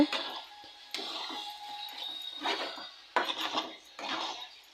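A metal lid set on a pan of tomatoes frying in oil, heard as several sharp clanks and scrapes of lid against pan, close and fairly quiet, with brief gaps between the knocks.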